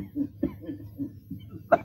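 A man coughs and clears his throat in a 1935 Marathi film, Dharmatma: several short rough bursts at close range, ending in one sharper, louder cough.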